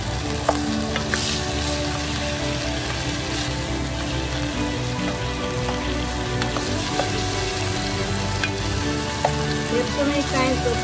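Chicken pieces for adobo fry steadily in a pan with a dense, continuous sizzle and occasional clinks of stirring, close and loud throughout with no talking.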